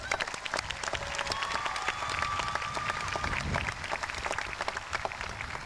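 A high school graduation audience claps and cheers in a sustained burst of applause, with scattered sharp claps and a few whistles rising above the crowd noise.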